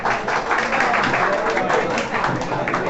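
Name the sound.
audience applause welcoming a qawwali team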